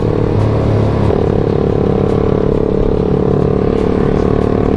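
A bored-up Kawasaki Ninja 280 motorcycle with a loud aftermarket exhaust rumbles close and harsh on a night ride, a dense, raspy, continuous exhaust note with a brief rise in pitch and no talk.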